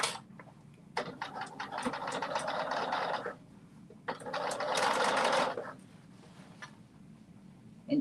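A sewing machine stitching a seam at 5/8 inch allowance in two steady runs of rapid, even needle chatter, each a couple of seconds long, with quiet pauses between and close by.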